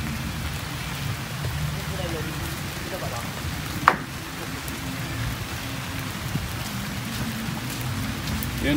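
Steady rain falls on a surface at a work site, a dense continuous patter with a few louder drops, filling the scene without pause; faint voices may be buried underneath.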